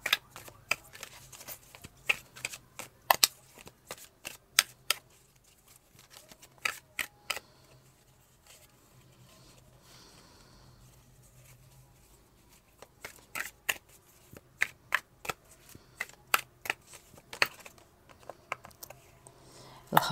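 Tarot cards shuffled by hand, crisp riffling snaps and flicks coming in clusters with a quieter stretch in the middle, close and fairly soft with no talk.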